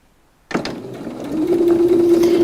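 A sewing machine stitches a fabric seam, starting abruptly and running steadily with a rising mechanical hum and rapid needle clatter, close and fairly loud, with no talking.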